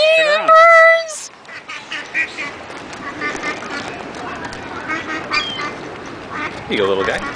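Ducks and other birds being fed call out with loud, harmonic quacks and squawks near the start and end, over a busy outdoor background with voices.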